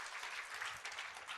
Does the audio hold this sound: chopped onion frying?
no